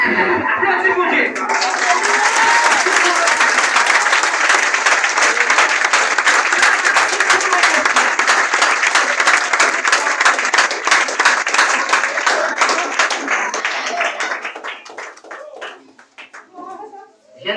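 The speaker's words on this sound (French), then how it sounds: "Applaudissez-vous Dieu." Church congregation applauding in loud, sustained clapping that fills the room for about fourteen seconds, then trails off into scattered claps and near silence.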